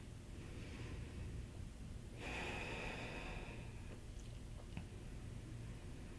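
A person holding a yoga plank pose takes a long, deep breath that swells briefly above a quiet, hushed room, with faint soft rustles afterward.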